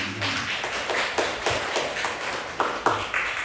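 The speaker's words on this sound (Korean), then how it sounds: "저 뒤에 박수 한번 하겠습니다" A church congregation clapping at a Sunday service, irregular close taps and claps spread over a few seconds, with a few louder individual claps standing out toward the end.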